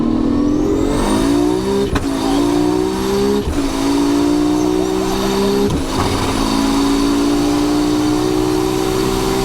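A 1200 bhp Nissan Skyline R34 GTR with an RB engine and sequential gearbox revs hard and loud, rising in pitch through several sharp gear changes, with a continuous close-up engine roar.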